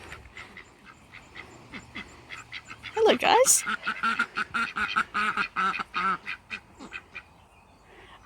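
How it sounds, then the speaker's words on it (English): White ducks at a resort quack in a quick run of repeated calls, fairly close and loud, after a short greeting from a voice. "We have some white ducks."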